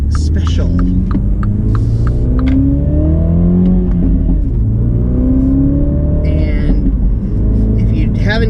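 A 2019 Mini John Cooper Works Knights Edition on the move, its engine humming and droning with rising and falling rev sweeps from inside the cabin, while someone talks over it.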